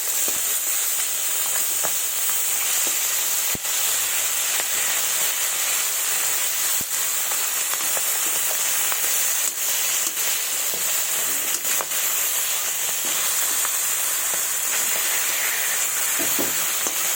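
Fish frying in hot oil in a pan, a loud, steady, close-up sizzle and hiss that runs unbroken throughout, with faint pops and crackles scattered through it and no voices.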